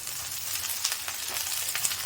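Drumstick leaves sizzle and crackle steadily in a hot pan, with soft scraping as they are stirred and sautéed.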